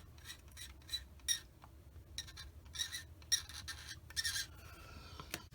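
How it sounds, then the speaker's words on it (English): Paint scraped off a small Tamiya 1/48 Fairey Swordfish model cockpit part, faint close rasping strokes in short bursts, about a dozen uneven scrapes over a quiet background. "I'm going to scrape some of this paint off of here."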